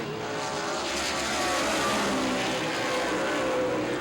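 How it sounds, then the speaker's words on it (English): Race cars at Baer Field Speedway during the 2014 Kenny Wallace 100, a dense continuous engine roar that swells slightly as the pack passes, heard from trackside without clear talk. "Lapped cars coming up for the race leaders."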